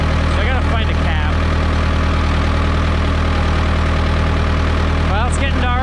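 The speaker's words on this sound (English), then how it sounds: "You probably can't hear me over the tractor" A Ford 6610 tractor engine idles steadily and close by, a constant low rumble running throughout while someone talks over it.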